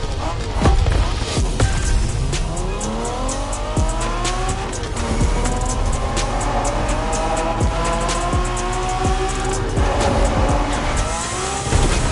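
Race cars in a Japanese street racing video game roar with revving engines, and their tires squeal in long sweeping skids. The sound is loud and continuous and comes with sharp bursts, with no talking over it.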